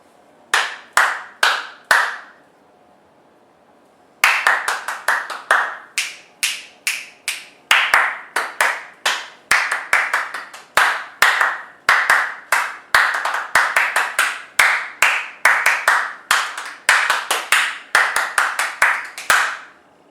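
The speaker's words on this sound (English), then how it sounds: "you're going to have to be listening to the next pattern while you're clapping the previous pattern" Hand clapping in rhythmic patterns for a call-and-response exercise: a short group of sharp claps, a brief pause, then longer, steady runs of crisp claps in repeating patterns, close and clear, with no talking.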